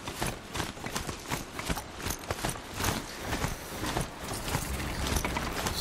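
Hoofbeats of Aloy's mount at a slow pace in Horizon Zero Dawn, a steady run of busy, overlapping clip-clop footfalls with game ambience running continuously underneath, fairly close and even in level.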